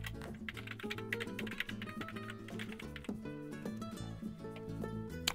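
Fingers type on a computer keyboard on a Mac, entering a name and an email address into a form. The keys clatter in quick, uneven bursts, close but fairly quiet, with no talk over them.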